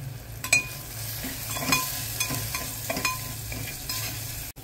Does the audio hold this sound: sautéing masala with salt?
yes